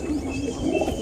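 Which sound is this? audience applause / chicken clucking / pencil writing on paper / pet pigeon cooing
pet pigeon cooing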